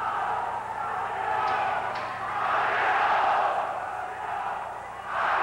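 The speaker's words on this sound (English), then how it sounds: "This is Fabelio, the cheer that Raul Manglapus himself worked out" A crowd at the 1987 UAAP basketball finals between Ateneo and UE chants the Ateneo cheer Fabelio, a loud, surging collective chant that swells and dips in waves, heard from the stands.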